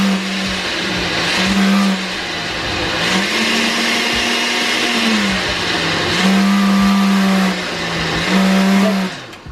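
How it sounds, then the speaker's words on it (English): A kitchen blender whirs loudly through its whole run, its motor pitch rising and falling as it labours on fruit for a fruit cake, with no talking over it. "the blender struggle, you know,"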